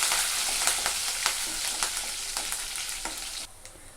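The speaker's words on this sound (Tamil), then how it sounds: "கொஞ்சமாக கருவேப்பிலை இதெல்லாம் சேர்த்து கொஞ்சம் நேரம் எண்ணெயில் வதக்கிக்கலாங்க" Garlic, dried chillies and curry leaves sauté in hot oil for a pumpkin poriyal, giving a steady close sizzle broken by sharp spatula scrapes and stirs. The sizzle drops and quiets near the end.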